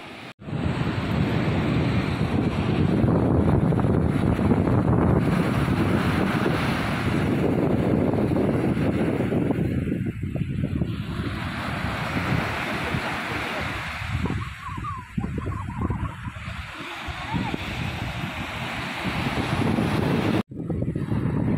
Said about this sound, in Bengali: এটা সাবমেরিন মিউজিয়ামের সামনের বিচ।